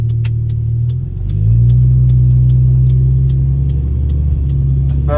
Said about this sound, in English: the spool of this turbo is a bit quieter than the old Aeroflow